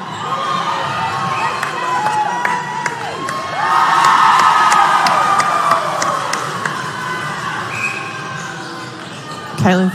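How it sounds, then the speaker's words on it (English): A crowd at a Fiji v Tonga netball grand final cheers and shouts steadily, swelling to a louder roar midway, with a commentator talking over it and ball bounces audible. "The crowd are just delighted to see Claire in that red dress with Tonga."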